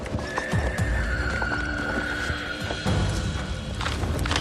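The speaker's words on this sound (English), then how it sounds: "So we boogied back down the mountain. Horses are going, thankfully" Horses walk downhill on a mountain trail, hooves clip-clopping in an uneven rhythm close by, with a horse whinnying partway through.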